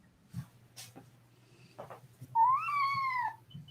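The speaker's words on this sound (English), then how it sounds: "Oh, I hear the kitty." A cat lets out one clear, drawn-out meow after a few quiet taps and rustles in an otherwise hushed room.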